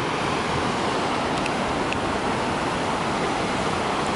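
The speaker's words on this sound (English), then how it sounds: "And then the waterfall continues." Yosemite Falls roars as a dense, continuous rush of water, loud and unchanging throughout, with no voices.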